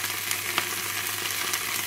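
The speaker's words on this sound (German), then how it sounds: "Das darf jetzt alles mal hier mit anbraten." Chopped onion and plenty of garlic fry in a pan, a steady close hiss and sizzle with faint stirring crackles, heard alone without talk.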